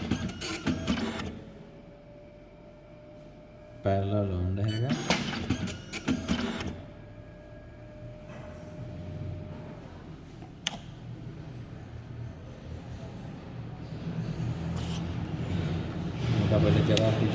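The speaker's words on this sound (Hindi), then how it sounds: "अब प्रिंटर का सेटिंग टोटल प्रिंट हो गया है" Epson PLQ-35 dot-matrix printer printing its settings page, with buzzing bursts of print-head chatter separated by pauses and a mechanical whir, close by, while someone talks over it.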